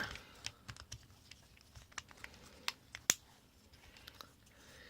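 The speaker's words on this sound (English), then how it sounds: "You can already hear things clicking into place, as they should." Plastic parts of a Power of the Primes Sinnertwin Transformers toy click into place, a quiet irregular series of sharp clicks and snaps, one louder near the end.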